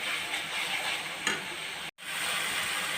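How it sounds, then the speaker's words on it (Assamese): Bottle gourd kofta mixture frying in a pan, a steady close sizzle with light stirring ticks and a momentary break near the end. "আৰু অকণমান ভাজিব লাগিব।"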